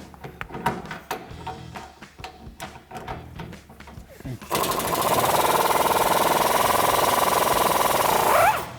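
A socket wrench with an extension and 21mm swivel socket works the upper strut bolt on a Chevrolet Silverado 1500, starting with quick ratcheting clicks and then shifting to a loud, steady whirring drive before stopping.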